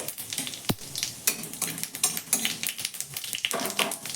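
Whole cumin seeds crackle and sizzle in a small amount of hot mustard oil in a wok, a close, busy spatter of fine pops with a few sharper clicks, no voices over it.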